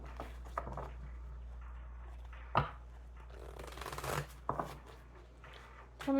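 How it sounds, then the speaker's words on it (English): A deck of tarot cards being shuffled, with a few sharp riffles and soft sliding rustles over a low steady hum, close and fairly quiet. "2 more shuffles."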